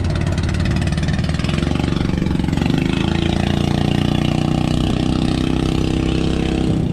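A boat engine runs at a steady, even idle during a loaded sea trial, a constant close rumble with a rapid chugging pulse throughout and no voices.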